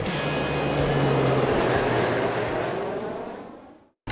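An East Midlands Railway Meridian train rumbles steadily nearby with a low engine drone and broadband noise, holding loud for about four seconds before cutting off abruptly.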